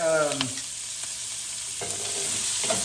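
Vegetables for beef stew sauté in a pot toward caramelization, a continuous moderate sizzle with occasional stirring scrapes and a short voice at the start.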